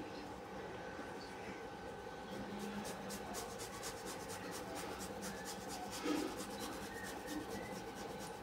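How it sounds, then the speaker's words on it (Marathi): A boiled potato is rubbed across a grater for sabudana vada, giving a steady, continuous rasping scrape that runs through the whole stretch at close range, with no talk. "जो हा बटाटा आहे तो किसून घेऊ."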